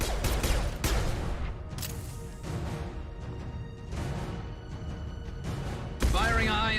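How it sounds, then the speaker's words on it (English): Gunfire and explosive blasts in the sci-fi shooter Mass Effect 2 come as several sharp, loud bursts at irregular intervals, with voices talking between them. "Firing a high impact shot."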